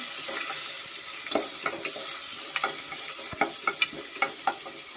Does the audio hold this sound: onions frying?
yes